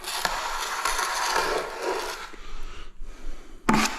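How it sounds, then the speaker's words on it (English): Tile glue scraped away with a hand tool: close, rasping strokes run continuously for a few seconds, pause briefly, then a sharp final scrape follows. "Always scrape away your glue."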